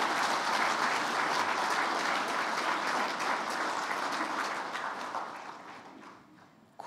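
An audience at a formal New Year business gathering applauds, a dense steady wash of many hands clapping that holds for several seconds and then fades toward the end.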